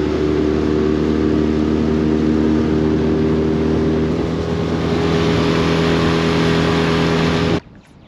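A motorboat engine roars steadily at high power as the hull climbs up onto plane, a loud, close, droning hum with strong low tones over rushing water and wind, cutting off abruptly near the end.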